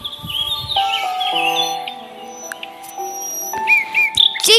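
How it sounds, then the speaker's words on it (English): An eagle lets out a high, drawn-out descending screech at the start, with sparse bird cries near the end, all over a bed of sustained musical tones. "eagle,"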